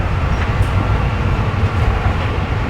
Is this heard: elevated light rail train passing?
yes